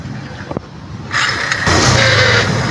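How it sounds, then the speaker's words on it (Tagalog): A car starter motor with a scraping fault cranks with a rough, grinding whir that rises and holds steady for about two seconds after a brief quiet lead-in. "Sa starter yun. Parang may nakayod."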